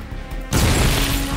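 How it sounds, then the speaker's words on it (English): A grenade explodes in Metal Gear Solid 3: Snake Eater, a sudden loud, full-bodied blast that bursts in partway through and roars on as a sustained wash of noise to the end. "Grenade!"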